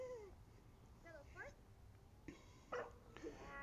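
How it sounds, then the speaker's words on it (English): A Giant Schnauzer puppy about 19 weeks old gives a few short, high whiny yips and one sharper bark during obedience training, fairly faint, with a trainer talking between them. "Big bark."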